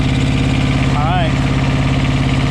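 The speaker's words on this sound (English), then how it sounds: "that fan's not running yet because it's not warm, and that fan just kicked on, so the AC part's running" A truck engine idles steadily and loudly up close with a constant low vibrating drone, while the cooling fan kicks on partway through and adds a brief rising whir over the running engine.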